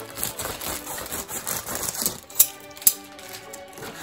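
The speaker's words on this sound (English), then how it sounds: "they all have that really wonderful snip sound to them" Vintage scissors snipping close up, with a run of light mechanical clicks and two sharper, crisp snips near the end.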